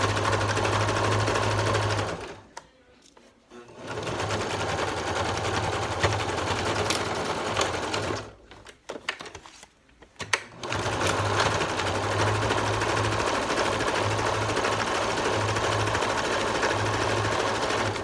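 A sewing machine backstitches a fabric mask, its fast rhythmic whirring running steadily with two brief pauses where it stops and starts again, close and clear.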